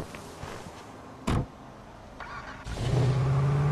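A car engine revs up in Grand Theft Auto 5, a steady low droning hum that swells near the end after a brief burst of mechanical noise, heard alone without any talking.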